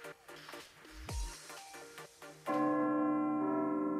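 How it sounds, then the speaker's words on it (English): A school bell rings in the game Blue Archive, entering partway through with a sustained, bright, ringing tone that holds loud after quieter game music and effects. "That bell is definitely creeping me out."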